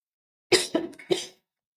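A woman coughs three times in quick succession, close and fairly loud, each burst short and harsh, with silence before and after.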